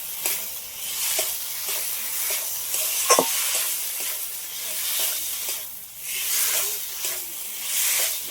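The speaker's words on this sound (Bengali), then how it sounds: "এবার ভেজে রাখা আলুটা দিয়ে দেবো। সবগুলো একসাথে ভালো করে একটু নেড়ে নেব।" Fried potatoes are stirred into a spice paste that has released its oil in a pan, producing a continuous hissing sizzle that swells and eases with the stirring, plus a brief scrape midway.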